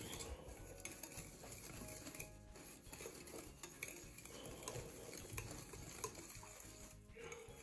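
Dry ingredients, including sweetened cocoa powder, are stirred in a mixing bowl for cupcake muffins, giving a steady scraping and rustling with soft utensil clinks throughout.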